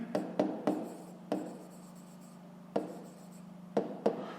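Pen strokes writing numbers by hand on paper during a Ukrainian fifth-grade maths exercise, a steady scratching broken by several sharp taps and pauses, close and quiet with a low hum behind.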